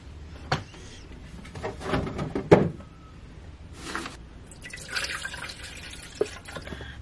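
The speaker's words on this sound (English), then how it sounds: "I am going to make my coffee" Coffee being made and poured in a home kitchen, with Archer Farms Caramel Macchiato coffee: scattered drips, clinks and short watery bursts over a low background hum, with no talking.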